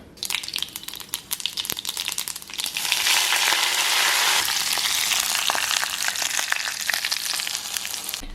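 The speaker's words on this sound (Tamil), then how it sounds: "சட்னி தாளிக்கும் போது முக்கியமாக சீரகம் போட்டு தாளிங்க" Cumin seeds sizzle in hot oil while tempering a chutney, a loud steady frying hiss with crackling pops that swells and holds near the pan, no voices.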